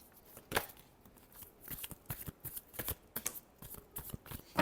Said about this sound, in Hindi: लास्ट शफल, ये 2 कार्ड्स निकल के आ रही थी